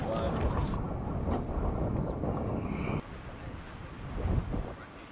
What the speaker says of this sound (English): A little bit breezy up here.